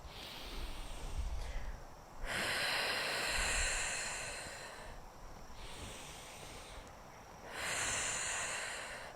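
Slow, deep breaths during a seated yoga practice, two long airy inhales and exhales in a calm rhythm, close and fairly loud, with no talking.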